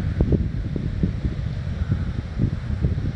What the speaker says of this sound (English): And it is breezy.